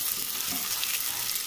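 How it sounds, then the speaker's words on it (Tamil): Onions half-softened and sautéing in a pan alongside a mango and greens stir-fry, giving a steady, even sizzle at close range with no voices. "வெங்காயம் வந்து பாதி வதங்கிருச்சு"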